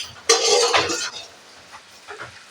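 A lid comes off a kadai pan of snail curry with a loud clattering scrape, then fades to quiet, faint kitchen rustling.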